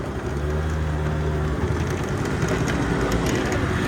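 A Honda Dio AF-34 scooter revs at full throttle with a loud, droning engine that holds a steady pitch at first and then rises into rougher, broadband acceleration noise close by.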